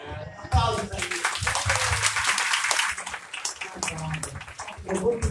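An audience applauds the Brazilian author Lya Luft during a café talk, with dense clapping that swells after a brief start and carries on with speech mixed in.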